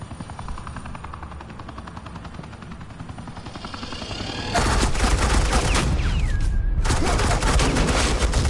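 Loud sustained automatic gunfire erupts midway in Batman: The Enemy Within, a dense suppressing-fire barrage with ricochet-like whines, following a helicopter-like rotor drone that fills the first half.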